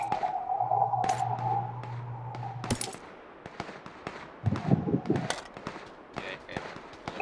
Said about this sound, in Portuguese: Quem tá atirando em nós aí?